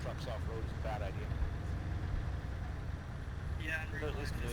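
Military trucks drive through a combat video game, a constant low engine rumble under ongoing talk from several voices.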